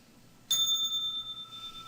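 A single clear bell strike rings out close and bright, its pure tone sustaining and slowly fading over a quiet background hiss, with no talking.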